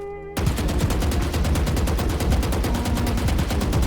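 Vandal rifle spray in the Valorant video game: a rapid, evenly spaced stream of loud automatic gunshots that starts abruptly and keeps going for several seconds, with no talking.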